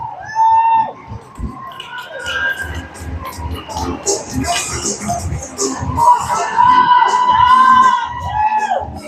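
A crowd roars and cheers loudly in a hockey arena after a goal, with whistles and shouts rising and falling, and a commentator speaking over the noise.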